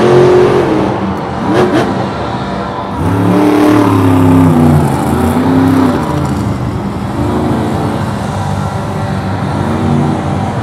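A Monster Jam monster truck engine revs hard in loud, rising and falling surges, with a throaty mid-range roar that swells twice and then settles into a sustained drone, close and dominant.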